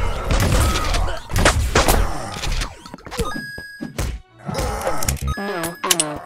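Shotgun blasts in the video game Boomer Slayers, a few loud booming shots with sharp attacks and quick decay, separated by short gaps amid other game sounds.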